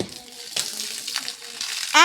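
Water gushes loudly from an outdoor tap after a hose slips off, splashing into a strong rush at the end, with voices talking over it.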